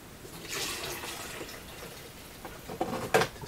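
Pottery glaze is poured into a jug in a studio, a soft liquid splash and gurgle building in short bursts, faint and close, ending with a brief sloshing pour.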